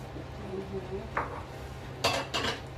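A spoon mixes Valenciana rice in a full pot with a quiet low hum beneath, and several distinct clanks and scrapes of metal against the pot come in brief bursts.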